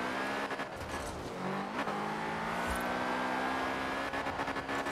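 BMW M5 accelerating hard on a long road during a speed test, a loud, steady engine roar with rising pitch sweeps and gear changes, heard from inside the car.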